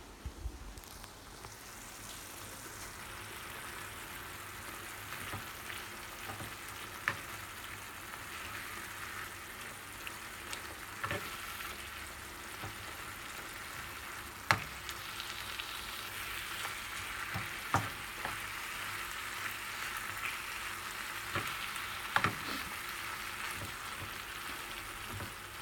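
Food frying in a pan while Lithuanian Christmas Eve dishes are cooked, a steady soft sizzle running throughout with occasional faint clicks and knocks, fairly quiet and undisturbed by talk.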